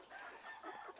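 Chickens raised on a farm cluck and murmur continuously through the second, moderately close, with no talking.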